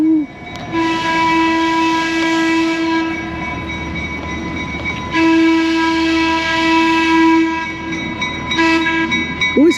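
A scenic tourist train rumbles past close by outside a cruise port, sounding a long steady horn blast, then a second long blast after a short gap, over a constant rolling rail noise.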